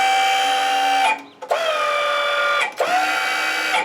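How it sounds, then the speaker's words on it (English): A bandsaw mill's hydraulic fence whines steadily as levers are worked back and forth, a loud, close mechanical hum that briefly cuts out twice before resuming. "So I'm gonna move these levers back and forth, and it will move a fence up and down"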